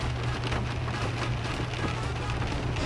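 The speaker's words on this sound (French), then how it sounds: "Un tremblement de terre, une pluie battante" Heavy pouring rain, part of a simulated earthquake, downpour and hurricane experience, a dense continuous hiss of drops drumming on a surface with a steady low rumble underneath, loud and unbroken throughout.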